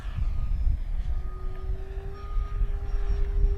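An FMS P-40B Flying Tiger radio-controlled model airplane, 1400mm wingspan, flies overhead with a steady engine drone and a rising tonal whine, constant and moderately distant, with wind rumble underneath and no talk.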